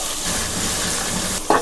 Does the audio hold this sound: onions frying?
yes